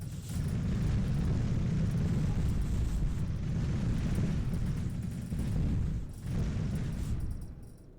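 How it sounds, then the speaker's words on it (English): A doom cannon fires in the space game Star Valor, a loud, dense rumbling roar that rolls on for several seconds, dipping briefly before swelling again and fading at the end. "Another doom cannon."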